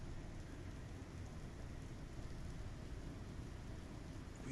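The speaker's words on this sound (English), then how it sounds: "We got rain." Rain falls in the game Star Citizen, a steady, even hiss of downpour with a low rumbling undertone, constant and fairly quiet with no voices.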